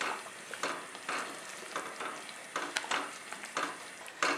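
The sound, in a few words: stirring grated coconut into jaggery payasam in a pan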